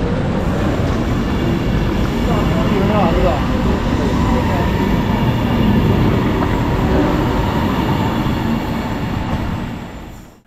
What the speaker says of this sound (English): we're gonna take a look at the departure of my train